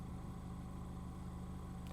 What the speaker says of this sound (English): the car is on, just listen to the idle of this car.